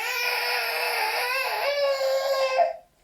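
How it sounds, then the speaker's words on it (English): A baby cries steadily and fairly loudly in a wailing, sobbing run of cries for almost three seconds, then stops abruptly into silence, heard alone with no talk. "that is the sound of a baby that has had enough"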